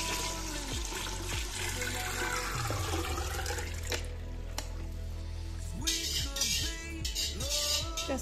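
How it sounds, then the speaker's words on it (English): Plain water runs into a big bowl of homemade lemonade in a steady, close gush and splash, with music in the background. "Next, I'm adding in the rest of the water that it calls for."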